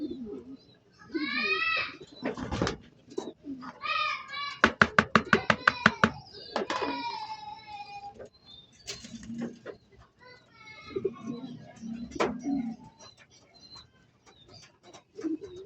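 Racing pigeons back from a training flight coo in soft, repeated calls close by, with a burst of wing flapping in the middle and scattered clicks, no voices.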